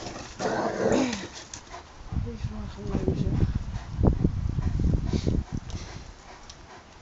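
An American Bulldog and a Dogo Argentino playing together, with rough growls, grunts and scuffling close by, while people talk at times.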